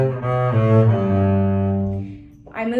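Bowed double bass plays accented, syncopated notes from Listen to the Mockingbird, each sustained tone starting with a heavy, fast bow stroke; a few distinct pitches follow one another, close and clear, with no talking.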